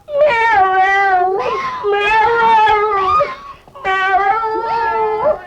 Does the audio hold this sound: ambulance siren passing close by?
no